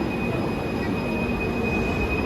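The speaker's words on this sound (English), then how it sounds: "Bye-bye train." A driverless metro train in Kuala Lumpur rolls past close by, giving a steady loud rumble of wheels on rail with a high whine and a thin, continuous squeal, with no talking over it.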